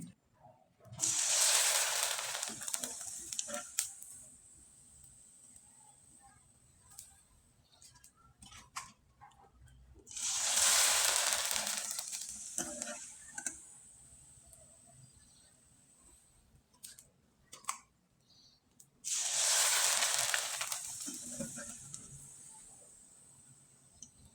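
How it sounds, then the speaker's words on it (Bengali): Rice pitha dropped into hot oil sets off three separate loud sizzling bursts, each a fierce hiss that fades over a few seconds, with quiet gaps and faint ticking between them. "এখন আমি কয়েকটা পিঠা আপনাদের তেলে ভেজে দেখিয়ে দিচ্ছি"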